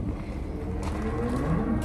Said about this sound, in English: the cows are coming up to me